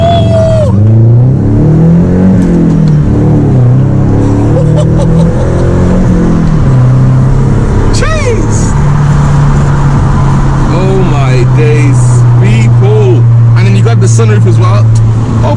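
A six-speed manual BMW 1 Series E82 engine pulls hard in-cabin, its drone climbing and dropping back as gears change, with loud excited talk and whoops over it.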